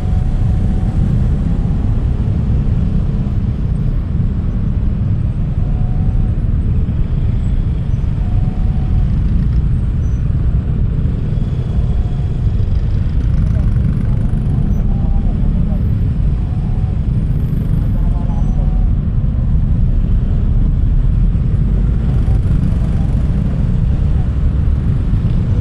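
Heavy road traffic on a congested Quezon City road near Tandang Sora, with cars and motorcycles idling and creeping past as a steady loud low rumble throughout, a voice talking over it.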